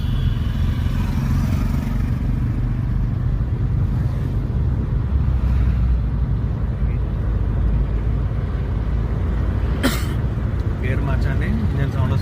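A car's engine hums steadily from inside during a driving lesson, a low continuous drone with a brief sharp click partway through, while an instructor talks over it.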